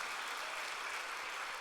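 Applause from a church congregation at a New Year revival service fills the room, a steady broadband patter of many hands clapping at moderate, fairly distant level without a break.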